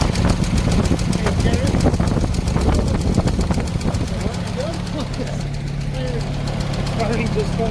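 A 1936 Oldsmobile car engine running at idle, a steady mid-pitched rumble with rhythmic firing that holds throughout, with people talking over it in the first half.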